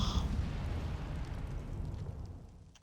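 Incendio fire spell in Hogwarts Legacy: a short whooshing blast that bursts at once and fades into a low rumbling roar over a few seconds.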